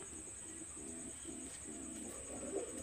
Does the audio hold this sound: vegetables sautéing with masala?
no